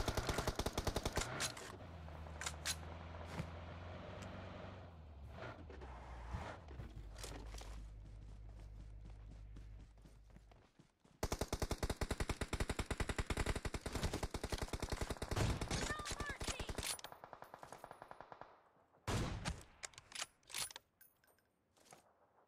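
Rapid bursts of automatic gunfire in the mobile battle royale game PUBG Mobile, loud and dense, broken by a short pause then a long sustained volley of shots and a few closing single cracks.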